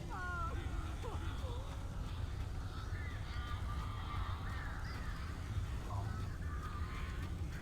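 Crows caw in the Alan Wake video game, several harsh calls overlapping above a steady low rumble of ambient game noise.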